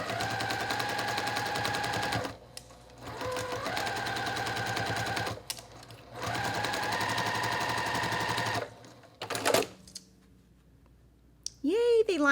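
A domestic sewing machine stitching a tiny Ohio Star quilt block, running in three rapid rattling bursts of a few seconds each, separated by short pauses and followed by a few faint clicks and handling noises near the end.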